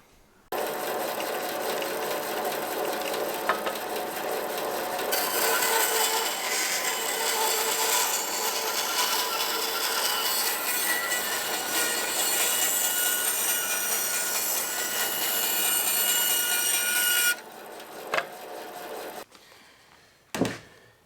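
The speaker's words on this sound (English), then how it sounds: "So I'm probably going to have to trim this just a little bit." A power tool trims a wooden 2x8 boat frame in a workshop, a steady loud cutting and rasping that runs for about seventeen seconds, grows harsher partway through, then stops, followed by a few short knocks.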